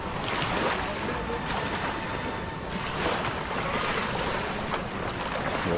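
Continuous rushing of sea waves on a shore, with rolling surges of surf and some wind noise, steady and fairly loud.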